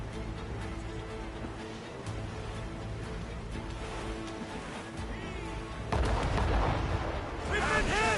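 Ship cannons booming in Assassin's Creed Rogue naval combat, heavy thuds and rumbling blasts over continuous sea and battle noise, with a stronger barrage near the end and voices shouting in between.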